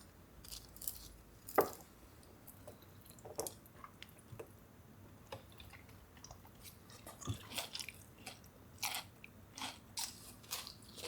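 Crunchy Korean fried twigim is bitten and chewed up close, with quiet crisp crunches and occasional louder bites scattered irregularly across a hushed late-night room.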